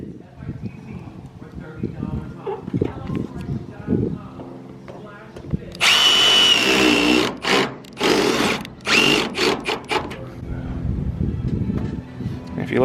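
A power drill drives a fastener into gable trim, several loud close bursts of whirring with short pauses between, following a stretch of talking.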